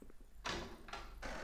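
A door opens in the tactical shooter Hidden and Dangerous, with a few short, sharp mechanical bursts in quick succession, fairly quiet and heard alone.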